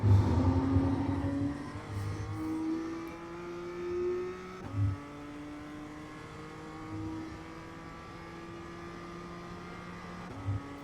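A BMW M2 CS race car on the Charlotte Roval in iRacing accelerates with a steady, rising engine drone, with a brief shift-like break near the middle and a fresh pull at the end, loud and alone without talk.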